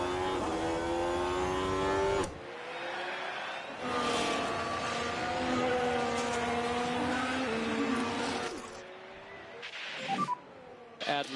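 Formula 1 cars race at Shanghai in F1 Manager 24, with a steady engine drone that shifts pitch, drops out briefly, then returns loud before fading near the end, with a short burst of extra noise.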